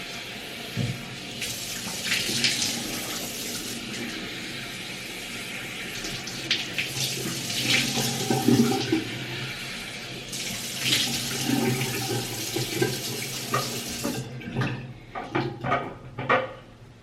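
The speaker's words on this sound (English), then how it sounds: "I'll just sort of splash my face with water with my hands" Water running from a bathroom tap in bursts while hands splash and cup it against a face, wet splashes and drips close by, the flow stopping near the end.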